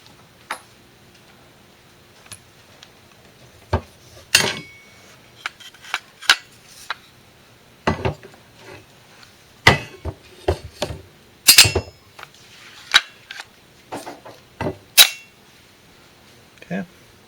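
Metal pins being pushed and tapped in to join a rifle's upper and lower receivers; a scattered series of sharp, close clicks and knocks over a quiet background, with someone speaking at times.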